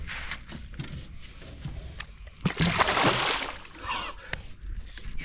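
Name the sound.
Murray cod being released into lake water, splashing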